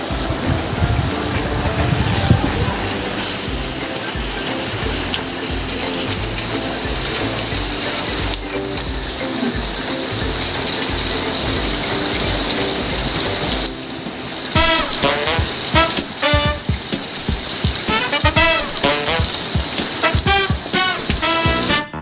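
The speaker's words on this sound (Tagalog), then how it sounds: "Dito kami nagbabanlaw ng mga damit dahil ito lang ang medyo may tubig." Clothes rinsed by hand in water from a tap during Typhoon Agaton, loud steady splashing and running water with repeated sloshing and wringing sounds, rain-like noise underneath, close by.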